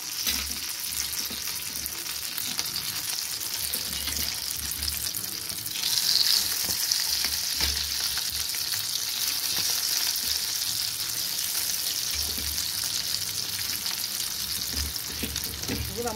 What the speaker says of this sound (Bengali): এবার আমি ফুলকপির ধোকাগুলোকে আমি এবার ছেড়ে দেবো